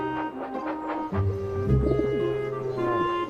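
Farmyard doves coo in a soft, rhythmic series of low, hollow calls, close and clear, overlapping a steady background hum.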